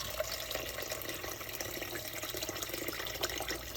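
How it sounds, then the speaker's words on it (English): Water pours steadily from a tap into a pot of beef for a Taiwanese beef noodle soup stock, a continuous, soft rushing splash with no talking over it. "And now water. So I'm going to bring up just enough water to cover the meat."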